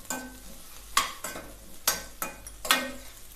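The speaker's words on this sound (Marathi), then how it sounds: "हे बघा आता ही चांगली अशी मिक्स करून घ्यायची." Takla leaves fry in a pan and are stirred, with sharp scraping strokes at irregular intervals over a soft, steady sizzle, close and alone.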